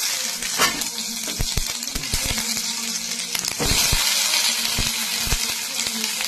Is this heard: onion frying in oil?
yes